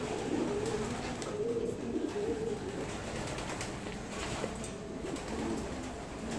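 An old racing pigeon hen, about 21 years of age, coos in low repeated rolling calls close by, over a steady background hiss with no talking.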